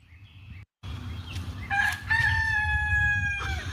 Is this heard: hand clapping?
no